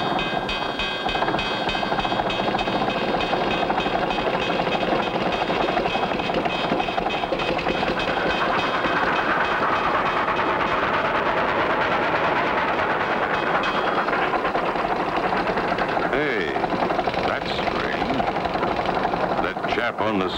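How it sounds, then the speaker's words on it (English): A train passing in the Clutch Cargo cartoon, a steady loud rumble and rattle of rail cars that rises and swells through the middle before easing off, with voices speaking over it. "Uh-oh. Train's coming."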